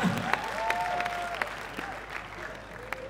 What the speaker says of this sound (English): A round of applause to our president,